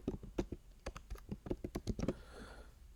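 Computer keyboard typing by a freight dispatcher on a load board, quick uneven clusters of close, crisp keystrokes over about two seconds, then trailing off into quiet room noise.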